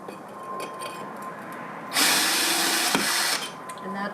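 Power drill boring a hole through a clay pot, quiet handling at first, then a loud, harsh whining grind that holds for about a second and a half before easing off, with no speech.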